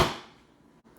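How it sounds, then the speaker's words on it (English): The door of a Ninja Combi multi cooker shuts with a single close, dull thump that quickly fades into quiet room tone. "We're going to close that door."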